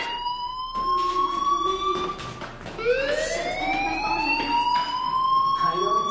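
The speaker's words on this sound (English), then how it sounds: "do you hear that fire alarm?" A fire alarm in the video game Life is Strange sounds as a steady, loud electronic tone that sweeps and glides upward in repeated whooping rises over a few seconds, with a short break before the next sweep.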